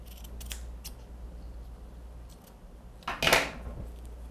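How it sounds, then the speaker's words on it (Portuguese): Scissors snip silk stocking fabric for a newborn's headband: a few light clicks early on, then one close, crisp cut near the end over quiet room tone. "E vou cortar um acabamento."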